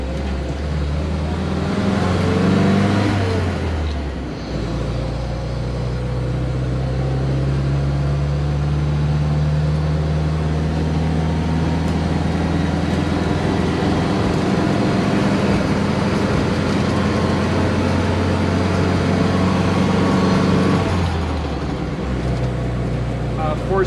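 Austin Gipsy G4M10 with a canvas top, driven on the road: a loud, steady engine drone with pitch shifts as it changes gear, overlaid by constant rattling from the canvas top frame.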